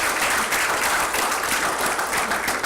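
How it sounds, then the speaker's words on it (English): A school event audience gives sustained, dense applause, a steady wash of many hands clapping at full volume with no gaps for the whole stretch. "Let's give them a round of applause."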